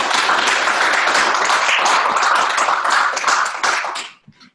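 A room of attendees at a biogas and bioenergy event claps in a sustained round of applause for about four seconds, then the clapping quickly tapers off.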